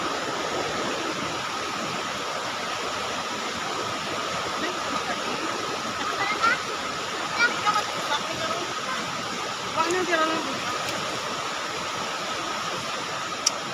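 Stream water flows down from the hills past big bamboo and large trees, a steady close rushing hiss with faint voices and a few small splashes.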